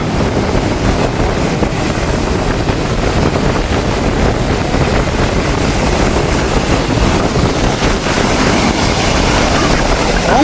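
Sea waves pound the shore at Jaffna in a loud, unbroken roar, with wind noise mixed through the surf from start to finish.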